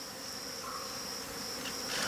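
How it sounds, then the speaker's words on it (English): Thousands of alarmed bees swarming out of a wild hive high in a tree during a night raid with a flaming torch, a dense continuous buzzing drone that swells slightly toward the end. "from which thousands of alarmed bees are swarming out"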